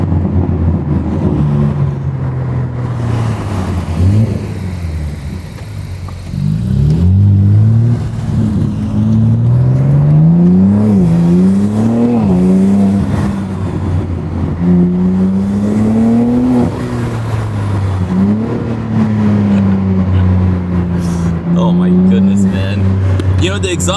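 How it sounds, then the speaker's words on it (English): A BMW G80 M3 accelerates hard, its engine intake and exhaust rising and falling through repeated revving pulls with gear shifts, loud and close, with a voice speaking over parts of it. "The exhaust doesn't sound the best, but that intake sounds amazing."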